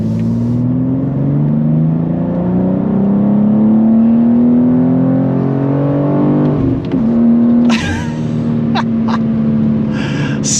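A BMW G87 M2 engine revs and climbs in pitch as it accelerates hard, drops briefly at a gear change, then pulls again with wind rushing past.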